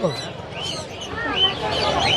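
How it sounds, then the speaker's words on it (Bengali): Rainbow lorikeets call at the Mirpur-1 bird market in Dhaka with a busy stream of shrill chirps and squawks, mixed with market chatter as people talk nearby. "এগুলো হচ্ছে ভাই লরি, রেইনবো লরি।"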